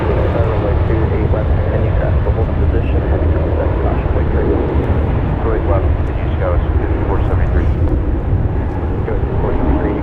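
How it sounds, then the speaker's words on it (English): United Airlines Boeing 787-9 Dreamliner departing San Francisco International Airport, a steady broadband jet roar with a deep low rumble running loud and unbroken throughout, with no talk over it. "Departing there, United Airlines Flight 29 off to Singapore, 787-9 Dreamliner."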